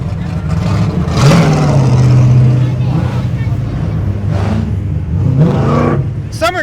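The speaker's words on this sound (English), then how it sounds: "Loud cars." Loud cars revving at the Summernats car event, engines roaring and surging in repeated waves with rising pitch sweeps, close and dominant over crowd noise.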